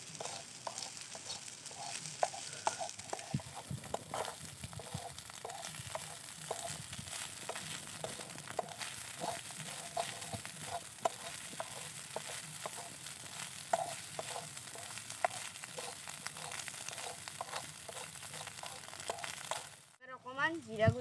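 Greens and egg fry together in a pan, a quiet steady sizzle with repeated spatula scrapes and taps as the mixture is stirred, ending with a brief clatter.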